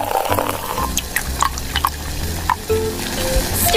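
Snails boil in Coca Cola with lime leaves, lemongrass and galangal, giving a steady watery bubbling with scattered pops and drips throughout, close and moderately loud with no voices.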